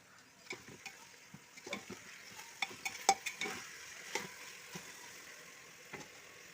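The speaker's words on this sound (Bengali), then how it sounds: "এবার দিয়ে দিচ্ছি ম্যারিনেট করে রাখা চিকেন" Marinated chicken hitting a hot pan for chicken pulao, a soft continuous sizzle broken by repeated scraping and stirring strokes and light clinks of a spoon against the pan.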